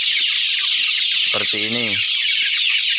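Small young chickens cluck under a steady, loud hiss of background noise while someone talks over them.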